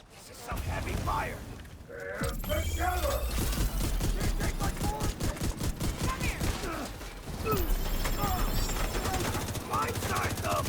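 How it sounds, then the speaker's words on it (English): Heavy video game gunfire rattles in dense rapid bursts, loud and close, with mechanical clanks between volleys and a voice speaking over the shooting. "This is some heavy fire."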